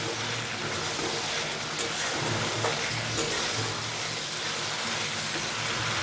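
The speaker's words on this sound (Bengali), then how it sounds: "মশলাটা ভালো করে কষিয়ে নিচ্ছি।" Spice paste for a bata fish curry sizzling steadily in a pan, a dense, even frying hiss that stays constant throughout without speech.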